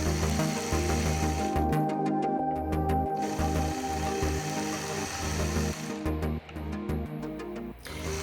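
A sewing machine quilts point-to-point curves on a blue star quilt block, running in a continuous buzzing whir that briefly slows and pauses twice, with faint clicks during the breaks.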